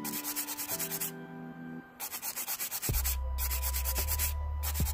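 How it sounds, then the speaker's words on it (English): A PolyGel nail on a thumb being filed by hand, heard as rapid rhythmic rasping strokes in short bursts, with a pause and then a lower, steadier scraping continuing close up. "because I always have issues filing my thumbs"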